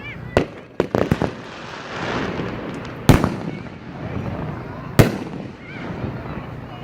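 A 500-gram consumer fireworks cake fires at a product demonstration outdoors, sharp loud bursts at irregular intervals with crackling and booms spreading between them, while people talk nearby.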